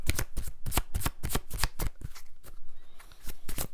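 A deck of Chuck Spezzano healing cards is shuffled with a run of quick, crisp riffling flicks, close and alone, in a steady uneven rhythm for several seconds.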